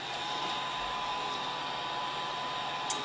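Heating tool blowing hot air to melt encaustic wax on a picture, a steady, close, breathy whoosh like a hair dryer that runs unbroken throughout.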